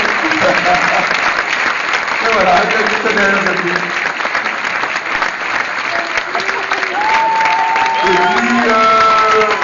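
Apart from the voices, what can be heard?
audience applause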